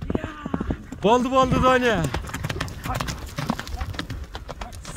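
A horse gallops when whipped, its hooves clip-clopping in a quick, steady rhythm that runs the whole time, close and clear, while someone speaks over it with a long drawn-out call.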